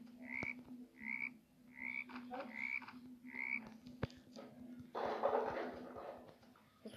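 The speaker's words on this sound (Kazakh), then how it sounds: "Не шықты? Құрбақа шықты ғой." A frog croaks in a series of short, evenly spaced calls close by, followed by a brief rustling burst and a low steady hum, with no speech.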